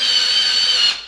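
A loud, high-pitched power drill whines steadily for about a second, close up, drilling down through a floor, then cuts off abruptly.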